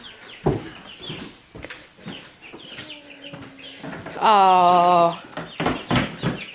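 Backyard garden chickens clucking near and fairly loud in short bursts, with one longer drawn-out call, while people talk quietly and a brief exclamation is heard.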